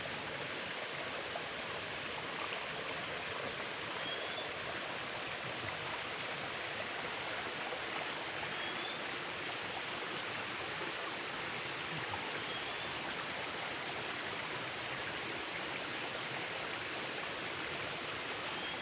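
Clean spring-fed stream water rushes and babbles continuously at a rural water source, a steady close-up flow that holds even and loud throughout with no talking.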